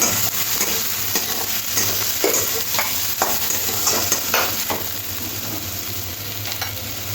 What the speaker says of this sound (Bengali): পেঁয়াজটা হালকা নাড়াচাড়া করে একটু হালকা করে ভেজে নিতে হবে